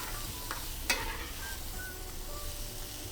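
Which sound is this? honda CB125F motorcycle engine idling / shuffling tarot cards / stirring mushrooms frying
stirring mushrooms frying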